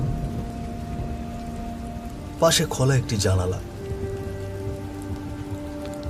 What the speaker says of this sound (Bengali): বাইরে ঝিরিঝিরি বৃষ্টি পড়ছে।